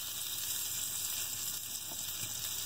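Pieces of Dryad's saddle mushroom fry in butter with garlic in a pan, giving a steady, soft sizzle with a faint hiss that stays even and close, with no voices.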